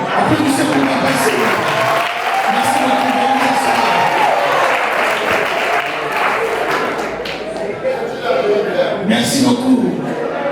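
Wedding guests at a civil marriage ceremony in Brazzaville applaud in a sustained, moderately loud wash of clapping, with voices talking over it and a few brighter cheers near the end.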